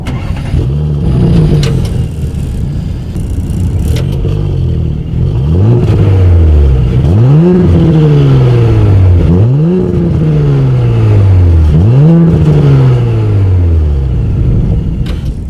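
A 2019 Audi S4 with a 3.0 TFSI twin-turbo V6 starts up, then its exhaust revs loudly and close by in repeated rising blips that fall back to idle.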